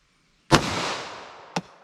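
A Glock 41 fires a .45 ACP Federal Hydrashok round, giving a single sharp, loud outdoor report with a long echoing tail, then a fainter second crack about a second later.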